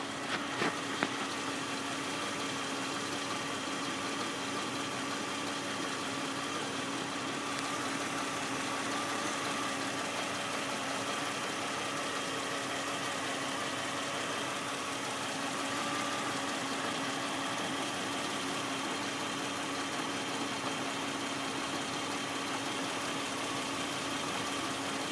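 A 2003 Jeep Grand Cherokee with the 4.0 engine idles steadily and evenly, a constant mid-pitched hum with a faint whine, heard close and alone throughout.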